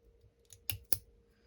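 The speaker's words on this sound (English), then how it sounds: "I'm using these nice new scissors" Two sharp snips from a new pair of scissors cutting down through material, close and crisp, each a single quick click with a short tail, separated by quiet.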